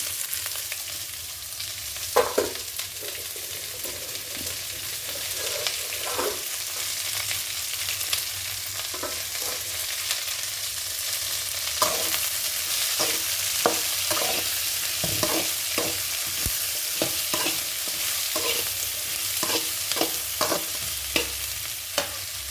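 Okra pieces frying in a pan with tempering, a steady sizzle throughout, punctuated by repeated scraping knocks of a spatula stirring, close and clear with no talking.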